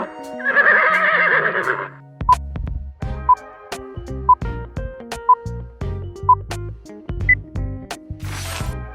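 A horse gives one loud, close whinny at the start, followed by a run of clip-clopping hoof beats with bright clinking accents and a brief rustling burst at the end.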